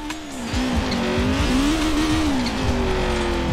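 A Honda Civic Type R drifts in Forza Horizon 4, its engine holding a steady high rev while the tires squeal continuously under the sideways slide, loud and close with no talking.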